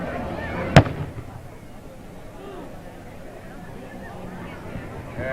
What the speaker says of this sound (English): Fireworks going on away here at 9:30.